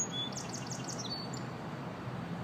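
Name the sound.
birds singing outdoors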